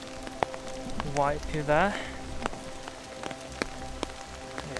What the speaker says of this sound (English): the rain is just non-stop